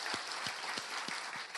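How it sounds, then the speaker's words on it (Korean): A church congregation applauding during a 22nd-anniversary thanksgiving service, steady dense clapping with a few low thumps spaced regularly beneath it, brief and moderately loud. "우리 다시 한번 하나님께 영광과 박수를 드리겠습니다."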